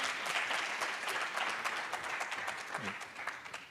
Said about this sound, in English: A round of applause for Team Lupa